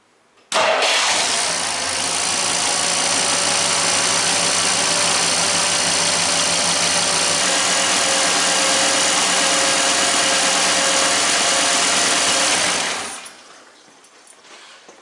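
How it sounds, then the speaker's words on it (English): A car engine with freshly coated exhaust manifolds turns over and catches, then settles into a steady, loud idle that runs evenly before cutting off near the end. "we just start it up and let the engine run for 20 minutes"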